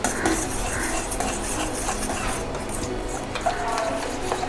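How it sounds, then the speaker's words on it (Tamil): A spoon stirs a raw egg masala mixture seasoned with pepper powder and salt in a metal vessel, making continuous close scraping and clinking with faint background hum. "நல்லா கலக்கி விட்டுக்கிடணும்."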